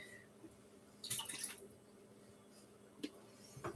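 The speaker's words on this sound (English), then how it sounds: "Maybe just add a little bit of water to get the rest of it out." A little water added to a cooking dish to rinse out leftover potato dish ingredients, soft splashing and trickling with a few quiet drips, faint and close in a kitchen.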